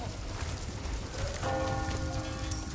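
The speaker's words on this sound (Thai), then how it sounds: "ระฆังดังแล้ว" Church bell tolling in the Resident Evil 4 Remake village during the first chapter's villager horde fight, steady ringing tones emerging midway over rain-like game ambience and continuing to the end.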